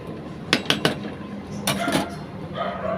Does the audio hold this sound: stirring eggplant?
yes